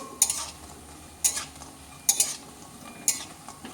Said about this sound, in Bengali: এই রকম করে বড়াগুলো আমি ভেজে নেব